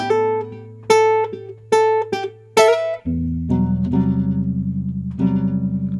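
Jazz guitar passage: several sharp plucked chord stabs ring over a sustained low bass note, then a denser run of repeated picked chords and moving bass notes, played close and clear with no talking.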